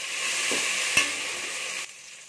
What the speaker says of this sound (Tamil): கொத்தமல்லி புதினா சேர்த்துக்கலாம் அதோடவே பச்சை மிளகாயும் சேர்த்துடலாம் சேர்த்து நல்லா வதக்கிக்கலாம்